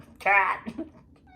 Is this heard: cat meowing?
yes